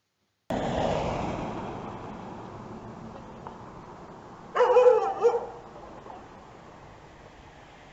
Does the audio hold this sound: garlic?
no